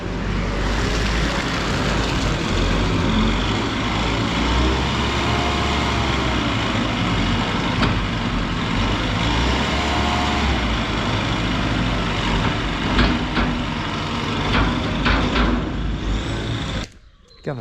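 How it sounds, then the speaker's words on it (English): A VT1 lighting tower powered by a 3-cylinder Kubota diesel motor runs continuously, a loud, steady engine rumble with a constant hum that holds for most of the stretch before cutting off near the end. "It's a VT1 lighting tower, 3-cylinder Kubota motor."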